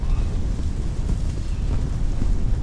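A gust of wind sweeps across the frozen ice of Lake St Clair during an ice-fishing outing, buffeting the microphone with a loud, steady low rumble and roar that lasts throughout.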